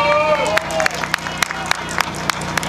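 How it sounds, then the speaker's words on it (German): Scattered crowd clapping for the Dresden police at an outdoor Pegida rally, a thin burst of applause with sharp individual claps and background murmuring. "Die Herren Beamten, das war Ihr Applaus, das geht besser."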